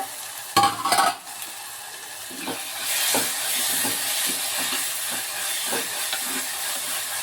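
Two tomatoes cooking down in a pan for a rasam, a few clattering knocks at first, then a continuous hissing sizzle broken by repeated soft scrapes and taps of a stirring spoon, no voices.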